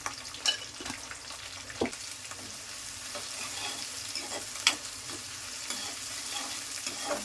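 Onions, curry leaves, mustard seeds and cumin fry in hot oil with a steady, close sizzle, broken by a few sharp clicks of stirring; no one speaks.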